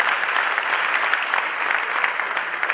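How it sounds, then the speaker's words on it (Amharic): A church congregation claps steadily and loudly, a dense, continuous patter of many hands with no voices standing out. "ሁላችሁም።"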